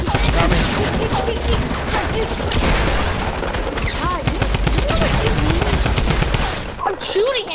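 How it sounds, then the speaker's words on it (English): Fortnite gunfire rattles nonstop, with rapid bursts of automatic shots layered into a dense, loud barrage, along with faint voices of players. "I'm shooting him, what do you mean?"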